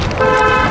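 A car horn on a road toward Mamaia, Romania, gives one loud, sustained toot lasting under a second, close by and with no voices.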